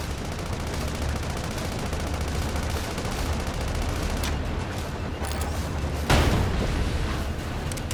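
Gunfire and explosions in the video game Sand Land, a continuous dense rattle of shots with a louder burst near the end, steady and moderately loud with no talk.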